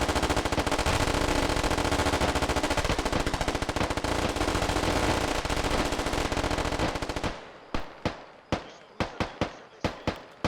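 Machine gun fire from an MMG in the video game Squad, a long, loud sustained automatic burst that breaks into a string of separate sharp shots spaced a fraction of a second apart.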